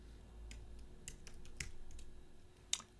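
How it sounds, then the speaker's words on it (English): Typing on a computer keyboard while entering a program name at a command prompt: several quiet, scattered key clicks at an irregular pace, close up, with one sharper click near the end and no talk. "So I'm just typing in the name of the executable."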